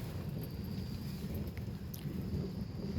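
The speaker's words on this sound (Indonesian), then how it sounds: "Di luar angin kencang, rintik." Strong wind roars steadily past a camping tent on a mountain at night, with light drizzle outside. It makes a dense, unbroken rumbling gust noise close around the tent with no voices.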